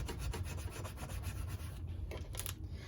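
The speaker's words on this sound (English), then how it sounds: "so let's give it another good scrape" Transfer tape is scraped firmly over Cricut vinyl on a table to lift the lettering, giving a steady, close rubbing scrape that runs almost without pause.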